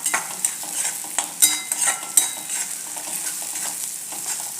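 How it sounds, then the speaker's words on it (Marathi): Chopped tomato sautéing with spicy brinjal masala in a pan: a steady sizzle broken by repeated scraping stirs of a spoon or spatula against the pan, close and moderately loud, with no talking. "आणि थोडं परतून घ्यायचं."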